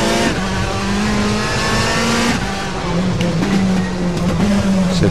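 A Citroën C-Elysée race car in RaceRoom Racing accelerates hard, the engine note climbing through the revs with gear changes, loud and close from start to finish.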